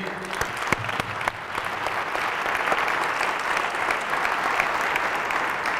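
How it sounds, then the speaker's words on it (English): A civic address audience in Northern Manhattan gives artists a sustained round of applause. A voice trails off at the start as the even, crowded clapping takes over. "Let's give our artists another round of applause for the great work that they did"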